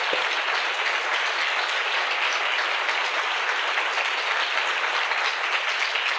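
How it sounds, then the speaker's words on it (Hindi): A church congregation claps together for the Lord in a continuous, even burst of applause from many hands, loud and unbroken. "क्या हम प्रभु के लिए एक अच्छी ताली बजा सकते हैं मिलके?"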